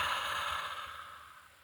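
One long, deep breath exhaled in a breathy, airy sigh as part of a dragon-summoning ritual, close and fairly soft, fading steadily over under two seconds.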